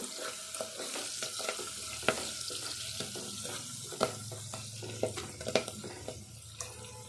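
Fenugreek leaves with onion and garlic fry in hot tempering oil, giving a steady close-up sizzle broken by occasional utensil knocks and stirring scrapes.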